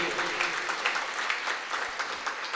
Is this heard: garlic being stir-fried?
no